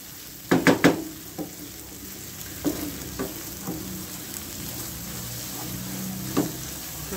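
Chicken fries in oil in a pan, a constant soft sizzle broken by a few sharp clinks and scrapes as it is stirred, close and fairly quiet, with no talking.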